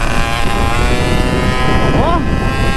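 Moped engine racing fast on a highway at around 70 to 100 km/h: a loud, continuous high-revving buzz with strong wind rush, the pitch rising briefly near the end.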